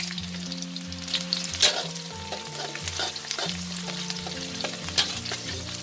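Shallots frying in hot oil until golden for a Thai minced pork chili dip, a steady close sizzle with occasional stirring scrapes, under faint background music and no talk.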